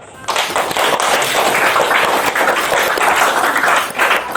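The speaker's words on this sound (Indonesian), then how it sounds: "Sebelumnya kita tepuk tangan dulu nih ke Panca nih" Loud, close applause from a talk show audience at a vocational school, welcoming a guest; dense, steady clapping starts abruptly and carries on evenly for about four seconds.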